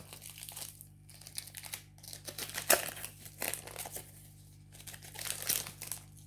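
A Pokémon card booster pack is crinkled and torn open up close, with soft, irregular crackling and ripping bursts of foil wrapper over a faint steady hum.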